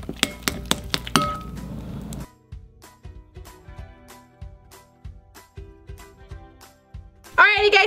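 A spoon clinks and taps against a glass container while stirring borax-activated Elmer's glue slime, with a quick burst of bright clinks followed by steadier, softer knocks in a loose rhythm.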